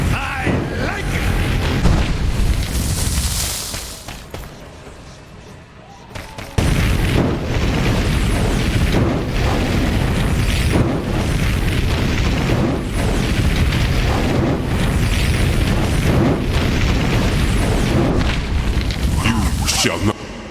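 Fire attack explosions from The Cursed Crusade video game boom and rumble in repeated heavy bursts over a dense roaring battle backdrop, with a game character shouting over them.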